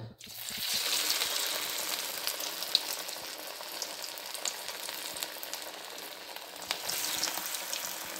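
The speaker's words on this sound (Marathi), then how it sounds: "बारीक गॅस करून तळायची आहे" Methi vadi frying in oil over a low flame fills the space with a steady, dense crackling sizzle, close and unbroken with small pops throughout.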